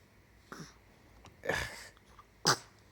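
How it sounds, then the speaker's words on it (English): An infant boy sneezes, with a couple of small, soft, close sneezes or snorts that build to a sharper sneeze near the end, in an otherwise quiet room. "You sneezing, yeah."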